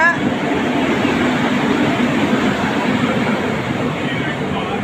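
Steady rumbling roar of a train rolling past, continuous and fairly loud throughout with no clear breaks.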